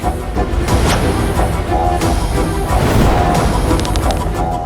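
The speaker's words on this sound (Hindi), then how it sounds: "अब देखो रावण के बाणों की आंधी" A dense storm of arrows from the Ramayana television series: a continuous loud barrage of whooshing, crackling impacts and bursts layered over dramatic effects, with no pause for the whole stretch.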